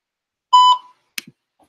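A voicemail prompt beep sounds during a phone call: a single clear electronic tone lasting about a third of a second, followed by faint clicks and rustle.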